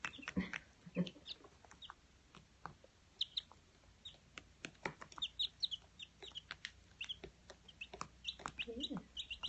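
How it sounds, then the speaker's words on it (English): Baby chicks clucking, cheeping and pecking, a busy scatter of soft peeps and small taps close by in a quiet space. "Chickens are so curious."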